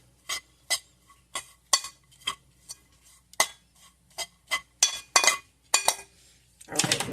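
Beef and cheese ravioli filling with Parmesan being mixed in a bowl: a string of sharp, irregular utensil clinks and knocks against the dish, close and distinct, with a rougher scraping stir at the end.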